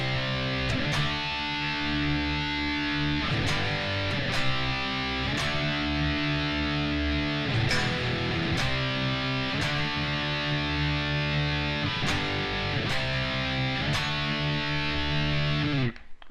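Distorted electric guitar playing the first-chorus power chords of a rock song, sharply struck chords changing in a steady rhythm with sustained, crunchy ringing between strikes.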